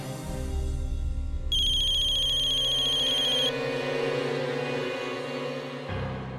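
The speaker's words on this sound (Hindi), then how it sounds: "शिवम का फोन है। उठा लो" A phone rings in a steady electronic ringtone for about two seconds, bright and clear above a low background hum in a quiet room.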